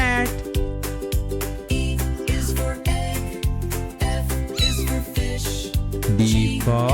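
A cartoon cat meows in a nursery-rhyme alphabet song, its cries riding over a bouncy, steady musical beat that plays loudly throughout.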